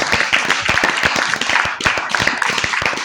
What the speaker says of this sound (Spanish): Dale fuerte aplauso, papá